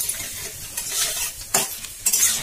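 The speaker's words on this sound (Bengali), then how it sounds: "দিয়ে ভালো করে নেড়ে নেবো।" Spices including black cumin stirred in hot oil in a wok for a kochu sag dish, a soft continuous sizzle broken by several sharp scraping strokes of the spatula, close and fairly loud.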